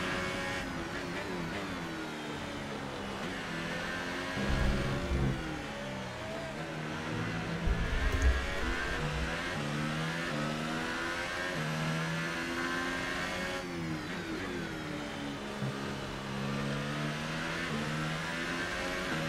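An F1 2018 video game Formula 1 car engine in the Singapore night race, revving in a continuous high-pitched whine that rises and falls with gear shifts, heard alone and fairly quiet.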